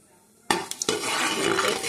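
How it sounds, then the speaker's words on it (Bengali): Cumin seeds, dried red chillies and bay leaves hit hot oil in a home kitchen pan with a sudden loud sizzle that holds steady, broken by a few sharp clinks of a spoon against the pan. "তেল গরম হয়ে গেছে, দিয়ে দেব জিরা, শুকনো লঙ্কা,"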